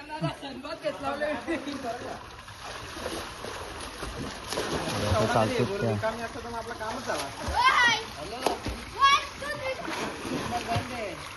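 Water splashes and sloshes near a riverbank as people, including children, shout and talk excitedly, with a couple of louder splashes from people jumping into the river standing out.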